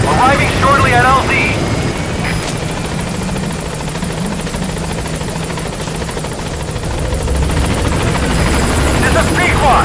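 The Pequod helicopter in Metal Gear Solid V: The Phantom Pain arrives at a landing zone, its rotor roar loud and steady for the whole stretch, with voices heard over it.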